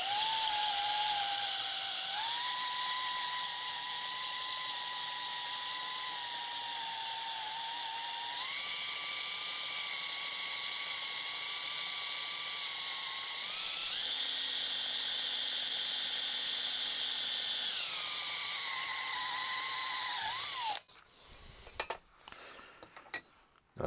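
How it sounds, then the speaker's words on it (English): A high-pitched drill whines steadily for about twenty seconds, its pitch stepping up and down, then cuts off, leaving brief scattered clatter. "drilling holes."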